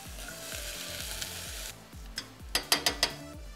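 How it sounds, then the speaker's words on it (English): Food sizzles in a pan with a steady hiss, while a rhythmic mechanical clicking ticks underneath and a few sharp scrapes come near the end. "And they're sizzling."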